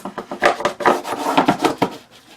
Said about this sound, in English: Now let me burnish real quick here